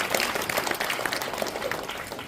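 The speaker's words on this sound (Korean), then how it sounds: "박수!" An audience at a live talk event applauds with dense, steady clapping throughout, close and continuous, with no voices over it.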